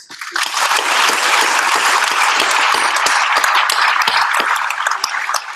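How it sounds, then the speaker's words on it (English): Sustained round of applause from a conference audience in Portsmouth, loud and steady, dense crackling claps filling the whole stretch without letting up. "whether you would join me in a round of applause"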